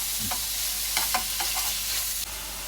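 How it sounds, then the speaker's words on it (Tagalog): Meat fries in a pan for Nagasaki sara udon, a loud steady sizzle filling the clip with a few brief utensil scrapes and taps over it, close and without talk. "unang pinirito yung karne at isusunod ba ito, Hani?"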